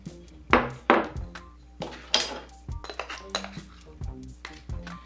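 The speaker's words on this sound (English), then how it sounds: "Next, you want to mix in your pumpkin." A spoon clinks and scrapes steadily against a bowl while pumpkin is stirred into a cinnamon facial mixture, giving close, irregular knocks and taps.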